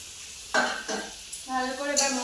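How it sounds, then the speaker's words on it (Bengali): Tomatoes and green chilies are added and stirred into a frying spice masala for a rohu fish jhal. Soft sizzling is broken by a couple of clattering stirring strokes, and a voice briefly speaks near the end. "মশলা আমার কষা হয়ে গেছে, এবারে দিয়ে দিব টমেটো আর কাঁচা লঙ্কা।"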